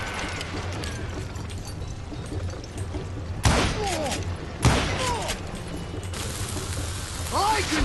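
Gunfire in the Western shooter game Call of Juarez Gunslinger: two sharp, loud shots ring out with echoing tails, over a steady rumbling backdrop and game voices.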